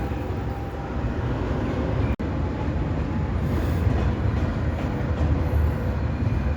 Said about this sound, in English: That's the big train